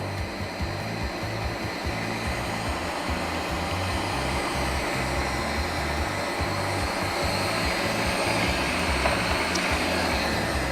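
An electric hand mixer whips egg whites for a pavlova, a steady loud motor whine that holds throughout without pause.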